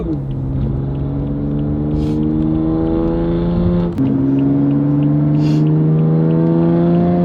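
A loud, deep exhaust drone from a BMW F80 M3 with an S55 engine and an equal-length exhaust revs steadily, its pitch climbing slightly, dips briefly midway, then roars on again at a sustained high level.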